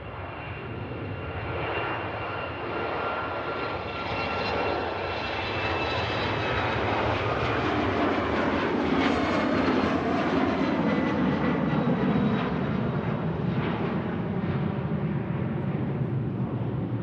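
A jet departing Manchester Airport, bound for Lisbon, gives a sustained loud engine roar that swells gradually and stays strong to the end, heard alone with no talk.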